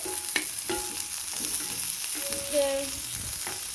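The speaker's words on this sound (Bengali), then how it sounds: "অবশ্যই তেলটা গরম করে নেবেন, তাহলে মাছটা নিজে লেগে ধরবে না।" Bata fish fries in hot oil in a pan over medium heat. A steady close sizzle runs under a few light clinks and shifts throughout.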